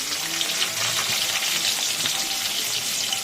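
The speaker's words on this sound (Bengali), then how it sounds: "তারপরে এগুলোকে এবার তেলের মধ্যে ভাজছে।" Potato pieces fry in hot oil with a loud, steady, hissing sizzle that carries on without pause and without talk.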